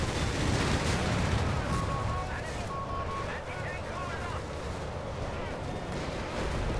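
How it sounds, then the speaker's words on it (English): Airstrike explosions in the video game Company of Heroes 3, a dense continuous rumble of blasts and gunfire filling the mix, with voices talking over it. "They call it an airstrike right on top of us"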